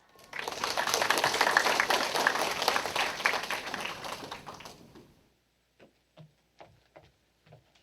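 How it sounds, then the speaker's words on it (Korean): Audience applause fills a hall for about five seconds after a middle-school student's presentation at a public hearing on university admissions reform, then fades to a few scattered claps. "다시 한번 큰 박수로 격려해 주시면 감사하겠습니다"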